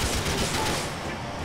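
Rapid gunfire bursts from a shootout in the video game Grand Theft Auto IV, loud and dense throughout with engine and crowd noise mixed in, under shouted voices.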